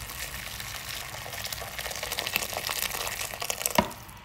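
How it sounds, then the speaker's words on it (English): Water poured steadily into a pot of ham hock and vegetable soup, a continuous close splashing and trickling that swells slightly before ending with a sharp knock. "Let's add some more water."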